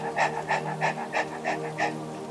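A person imitates a dog's panting for the first step of ujjayi pranayama, tongue out, giving about seven quick breathy huffs in a steady rhythm, close and clear with no talk.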